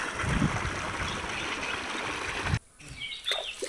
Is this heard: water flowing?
yes